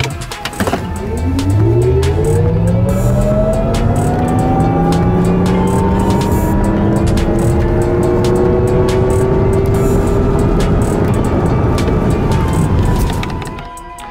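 Lexus RZ 450e dual-motor electric car accelerating hard from 0 to 100 km/h, loud close motor whine sweeping steadily upward in pitch with tire and road roar, fading slightly at the end, no talking.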